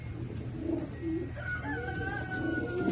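Pigeons in a breeding loft coo in a few soft, low bursts spread across a steady indoor hum, with some higher tonal calls drifting through the background.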